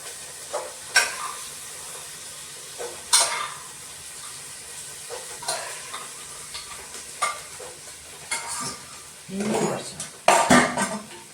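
Tomato rice with green peas is sautéed in a pan: a spoon scrapes and clatters against the metal in intermittent bursts over a soft, steady sizzle, close by.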